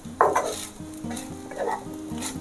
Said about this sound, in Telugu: ఒకసారి అంతా కలిపేసుకోండి.